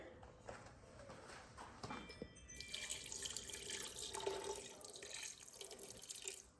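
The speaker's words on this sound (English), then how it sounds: "Let me add a little bit of water." Water is poured into a pot of Kinder's Italian chicken meant for pasta in an Instant Pot, a faint, steady trickling splash that grows fuller after a couple of seconds and runs on without talk.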